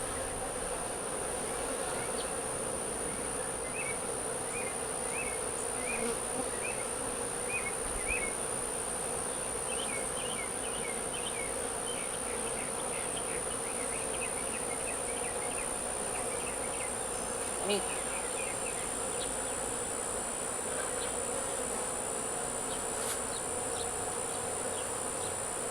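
Honey bees buzz continuously during a bee removal from a hive with comb attached to the frames, a dense, steady hum of many insects close by with no talking.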